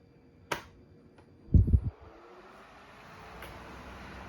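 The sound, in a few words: Galaxy electric fan starting up on high speed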